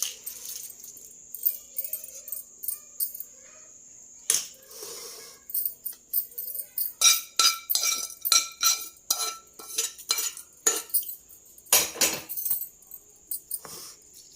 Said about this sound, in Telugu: ఈ తాలింపు తీసుకొచ్చి దీంట్లో వేసేసుకుందాం